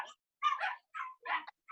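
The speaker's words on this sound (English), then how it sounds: "So I hear lots of dogs barking." Several dogs bark and yip in short bursts of three or four clustered barks with brief pauses between them, fairly loud and close, with no talk over them.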